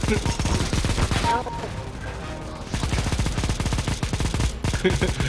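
Rapid, loud bursts of shotgun-style fire in a CS:GO match, rattling in dense runs with a short lull in the middle before the shooting resumes, and some voices faintly present.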